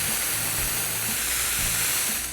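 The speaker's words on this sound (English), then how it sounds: "That's a lot of steam." A steam cleaner forces steam out through its tube for automotive interior detailing, producing a loud, continuous, even hiss close by with a faint low hum underneath.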